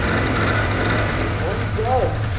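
A Honda Sky 50 moped engine runs just after being started, holding a steady low idling drone close by while a voice speaks over it.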